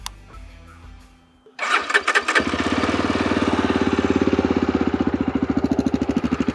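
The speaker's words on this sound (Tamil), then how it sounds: "நல்ல பீட்டிங்கான ஒரு எக்ஸாஸ்ட் நோட் தான் இது நமக்கு வந்துட்டு ப்ரொவைட் பண்ணுது" A Yezdi Adventure 2025 motorcycle starts and settles into an idle: the engine catches after a quiet lead-in, then a steady, close, thumping exhaust beat pulses evenly to the end with no talking.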